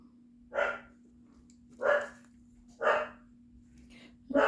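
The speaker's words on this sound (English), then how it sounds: "my dogs are going crazy" Indoor dogs bark in four separate, evenly spaced bursts, moderately near and fairly loud against a quiet room with a steady low hum beneath.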